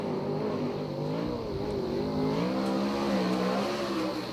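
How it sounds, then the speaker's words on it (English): A TCR Chevy sprint car with a 360 engine runs on a Ventura oval, its loud, buzzing engine note rising and falling steadily as it laps, close and continuous with no voices. "This is a TCR Chevy with, I believe, a 360 engine."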